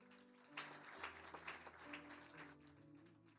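Scattered hand claps patter faintly over sustained organ-like tones during a church baptism service.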